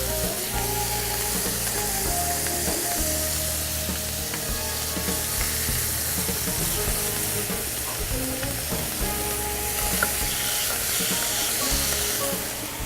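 Pollock fillets sizzle in a hot frying pan, a loud, continuous crackling fry that holds steady throughout, with no talking.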